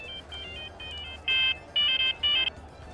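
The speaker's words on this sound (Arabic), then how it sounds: "لا مؤاخذة معلش التليفون" A telephone rings with a faint electronic warble, then louder trilling bursts repeat in quick succession over a low background hum.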